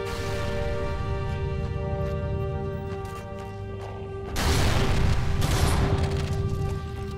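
An explosion in the video game Halo: Combat Evolved erupts midway as a loud, broad burst over steady game background noise, then fades back down.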